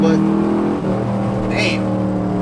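Chevrolet Camaro SS engine pulling hard in first gear, a loud steady drone with rising harmonics, heard from inside the cabin with a voice talking over it.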